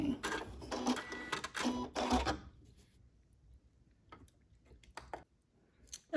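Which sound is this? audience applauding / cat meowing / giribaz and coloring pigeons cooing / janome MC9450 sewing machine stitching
janome MC9450 sewing machine stitching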